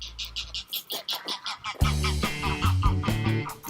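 Several ducks quack loudly and close by in a rapid, repeated series, their calls overlapping and growing denser toward the end.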